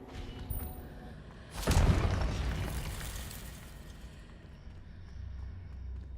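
Confringo spell blast in Hogwarts Legacy, a single sudden burst with a crackling, shattering impact that decays over a few seconds into a low, rumbling ambience, no talking.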